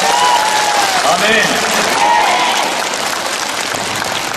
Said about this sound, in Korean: 오신 분은 박수 한번 치세요.